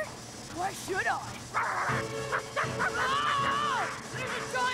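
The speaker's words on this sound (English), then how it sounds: "there's a giant dog chasing me!" A giant cartoon dog barks and yips in a chase scene, several short woofs and whining cries mixed with a character's frantic voice and background music.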